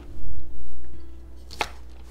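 A knife chops once through the root ends of green onions on a cutting board, a single sharp crisp cut following some soft handling noises.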